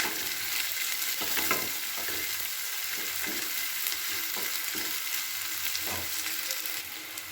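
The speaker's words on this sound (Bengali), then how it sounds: "এবার আমি কুচিয়ে রাখা পেঁয়াজটাকেও এতে দিয়ে দিচ্ছি। এটাকে দিয়েও কিন্তু খুব ভালো করে নাড়াচাড়া করে একটু ভাজা ভাজা করে নিতে হবে।" Chopped onion and garlic frying in a pan, a soft steady sizzle with repeated scraping stirs of a spatula spaced every second or so, close and moderately quiet.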